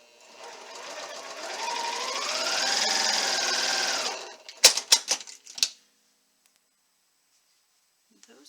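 Sewing machine running a quarter-inch seam on quilt blocks, a steady mechanical whir that speeds up and slows over about four seconds, followed by a few sharp clicks and then quiet.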